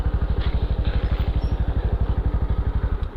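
A motorcycle idles up close as it is brought to a stop and parked, its engine thumping in an even, rapid beat that stays loud and steady throughout.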